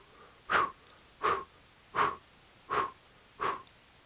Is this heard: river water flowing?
no